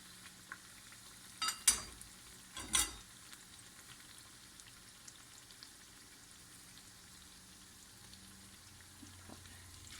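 Gluten-free vada frying in hot oil, a faint steady sizzle with a few brief louder pops and crackles near the start, then a low bubbling hiss that carries on quietly to the end.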